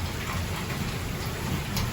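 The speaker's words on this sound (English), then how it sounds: "It's raining hard." Heavy hurricane rain during Hurricane Elsa in Estero, Florida pours down as a dense, steady roar of drops with a low rumbling undertone, loud and unbroken throughout.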